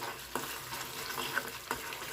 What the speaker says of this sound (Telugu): ఈ చిల్లీ పేస్ట్ ఈ ఆయిల్లో ఉండి బాగా మరగాలి.